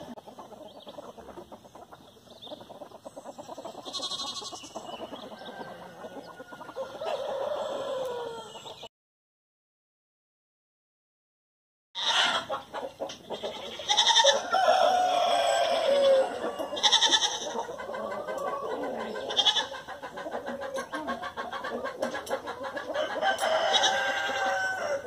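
Chickens cluck and a rooster crows repeatedly on a farm, loud and close, with a few seconds of dead silence partway through before the birds pick up again.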